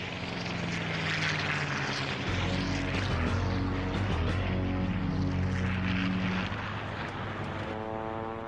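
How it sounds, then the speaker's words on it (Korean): Italian and German World War II fighter planes take off from a Sicilian harbour in a war video game, with a loud, continuous propeller engine roar whose pitch shifts as engines rev and aircraft pass. "이탈리아와 독일의 전투기들이 시칠리아 섬의 항구에서 이륙했다."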